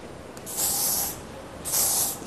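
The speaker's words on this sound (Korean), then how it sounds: "베이스로 스프레이를 먼저 살짝만 뿌려드릴게요." Hair spray from an aerosol can misted onto styled hair in a salon, two close hissing bursts of about half a second each separated by a brief pause.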